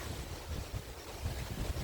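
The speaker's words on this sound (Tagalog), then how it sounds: "Kasi ang lakas ng hangin." Strong typhoon wind in Bohol roars steadily in rough low gusts that buffet the microphone, with no voices.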